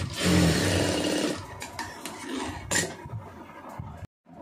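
A sewing machine runs steadily as it stitches along a strip of fabric, a loud close mechanical whirr and rapid needle chatter that slows and stutters toward the end before cutting off briefly.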